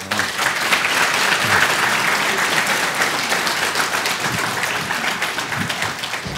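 Loud, continuous applause from a conference audience at an open source executive forum keynote, with many hands clapping steadily for over six seconds and scattered crowd noise underneath.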